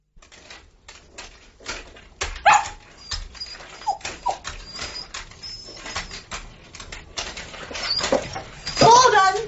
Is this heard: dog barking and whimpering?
yes